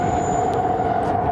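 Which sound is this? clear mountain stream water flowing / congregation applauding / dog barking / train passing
train passing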